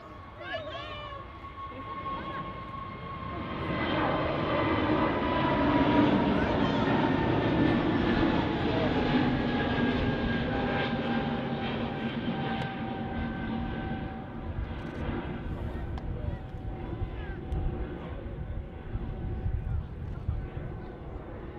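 A taxiing airliner at Manchester Airport gives off a steady, fairly loud engine rumble with a rising whine and sustained tones that swell and then hold, while a voice talks over it.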